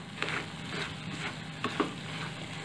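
A corn chevda mixture with coconut is stirred in a pan over a low-to-medium flame: soft, repeated scraping strokes and a light sizzle, with a couple of sharper taps near the end.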